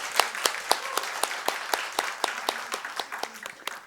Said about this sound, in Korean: 격려 박수를 좀 드리겠습니다